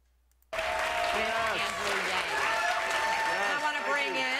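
A town hall audience bursts into sustained applause and cheering after a brief silence, a dense, loud wash of clapping with overlapping shouts and voices throughout.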